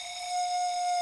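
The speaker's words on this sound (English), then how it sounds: "use the sound of me blowing into the straw" A drinking straw in a fast-food paper cup is blown into, giving a steady, clear whistling tone with bright overtones that holds for about a second, close and moderately loud.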